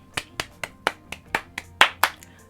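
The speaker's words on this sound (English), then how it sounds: "I put a round of applause for myself" A woman claps her own hands about nine times in a steady, even rhythm, each clap sharp, close and distinct, with no voices.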